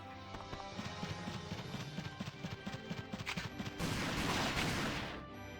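Rapid gunfire in Valkyria Chronicles II, a PlayStation Portable tactical game, as a soldier is shot: a dense run of sharp repeated shots, then a louder sustained burst near the end, with no talking.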